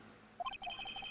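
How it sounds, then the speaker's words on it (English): A short electronic phone ringtone from the Phoenix Wright Ace Attorney video game, a quick run of bright high beeps that starts after a brief quiet moment and stays faint. "I heard a phone ring just now."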